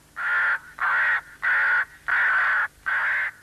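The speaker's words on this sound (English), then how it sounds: "Playing the birds' distress calls sometimes works." Recorded bird distress calls are played over an airfield to scare birds off: five loud, harsh caw-like blasts in steady succession with short gaps, crow-like and electronic in tone, with no voices.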